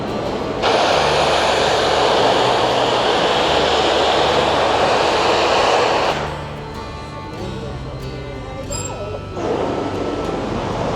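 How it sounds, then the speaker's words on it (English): A loud, sustained roaring hiss of steam as a narrow-gauge steam locomotive on the Durango & Silverton railroad vents in a blowdown, then lower rumbling and clanking train sounds continue. "It's called a blowout or a blowdown, and it looks a little something like this."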